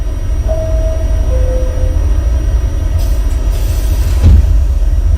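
NYC Subway R68 D train heading to Coney Island on the West End line in the OpenBVE simulator game: a steady low rumble of a running train, a brief tonal whine, and a louder clunk near the end.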